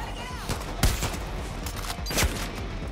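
Rapid gunfire from the companion Judge in the video game Far Cry New Dawn, sharp shots in quick bursts over steady background game ambience.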